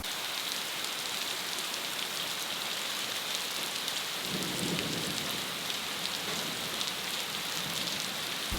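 A tropical rainstorm in Thailand pours down as a steady, dense hiss of heavy rain, with a low rumble of thunder rolling in about midway, no voices present.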